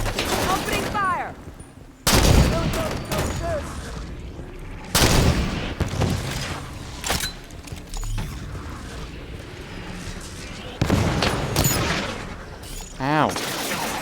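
Gunfire in the video game Halo 5: Guardians, with rapid automatic bursts broken by several loud, heavy shots and mechanical clatter, over a busy battle soundscape.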